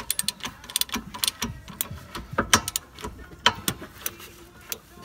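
A flex head ratchet clicks rapidly in uneven bursts as it turns a wheel stud on a Nissan 350Z, the sharp close-up ratcheting ticks repeating quickly with brief pauses between strokes.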